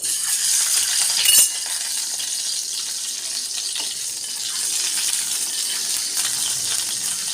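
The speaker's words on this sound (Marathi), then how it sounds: "या कढईमध्ये थोडं तेल टाकलं आहे, तर थोडंसं ना फ्राय करून घेते" A boiled egg sizzles in a little hot oil in a kadai, a steady bright crackling hiss with a brief clink near the start and no talking.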